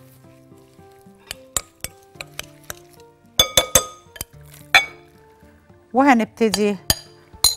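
Chicken pieces and spices being mixed in a glass bowl, giving a run of sharp glassy clinks and taps at an uneven rhythm, close and fairly loud, with a brief spoken phrase.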